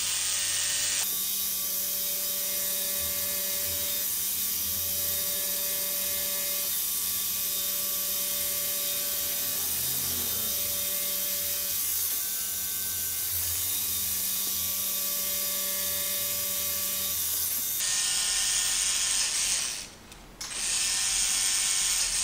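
A tattoo machine buzzes steadily while lines are tattooed, a continuous mechanical hum with a faint rhythmic pulsing, close and fairly loud, with a brief change in tone near the end.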